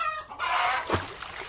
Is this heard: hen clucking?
yes